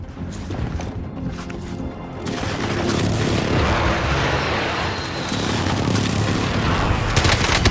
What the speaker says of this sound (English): Oh, airstrike, airstrike.